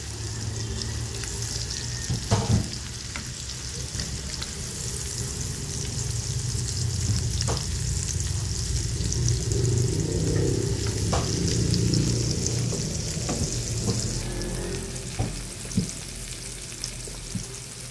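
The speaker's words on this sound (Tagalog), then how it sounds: "Isote muna natin yung onion at saka garlic." Onion and garlic sauté in melted butter in a pan, giving a steady, close sizzle that runs throughout with occasional clicks and scrapes of stirring.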